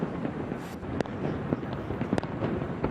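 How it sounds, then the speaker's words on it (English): A fireworks display at a night celebration during the Duke and Duchess of Cambridge's 2011 Canadian tour, with sharp bangs and crackles popping irregularly over a rumbling crowd-and-wind wash, heard from a moderate distance. "The night ended with a spectacular fireworks display."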